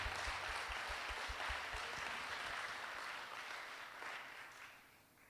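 A church congregation applauding and acclaiming the Lord, a broad wash of sustained clapping with a low rhythmic thump early on, gradually fading toward the end.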